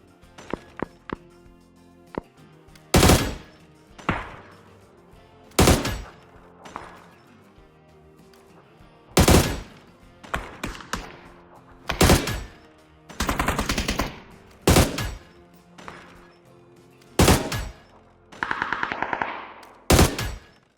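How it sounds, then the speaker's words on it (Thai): Loud gunshots from the video game PUBG ring out one at a time at irregular intervals, some as short bursts, with quieter clicks and footstep-like taps between them. "แล้วก็ไปฟังตอนที่ผมกดซ้อมฟังเสียงปืนเลยนะครับว่าเสียงปืนประมาณ ไหน ครับ"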